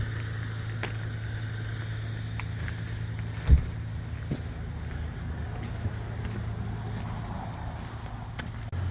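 A Jeep Rubicon turbo diesel engine idles with a steady low rumble throughout, with a single brief knock and light background noises, no talking.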